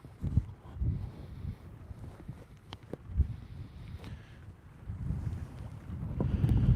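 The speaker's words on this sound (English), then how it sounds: "It's a little windy." Gusty wind buffets the microphone in uneven low rumbles, with a faint background hiss of water and boat motion, as a tug and barge arrive at Superior, Wisconsin.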